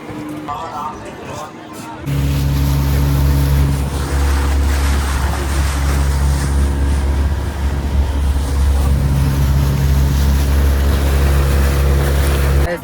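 Motorboat ride on water near Sundha Mata in Rajasthan, with a quiet, mixed opening that gives way after two seconds to a loud, steady engine drone with a low hum and water noise.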